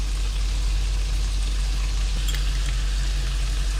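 Prawns frying in a hot pan with soy sauce, sugar and chili powder, a loud, steady close-up sizzle with stirring, no talk.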